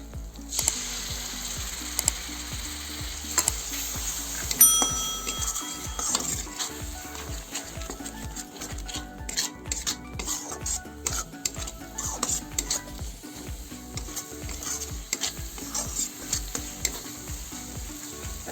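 Tomato paste with turmeric, coriander and cumin powders frying in a pan for a masala egg omelette curry, a continuous close sizzle broken by repeated spoon scrapes and clinks against the pan.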